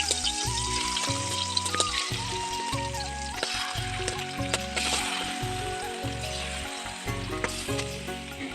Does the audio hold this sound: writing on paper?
no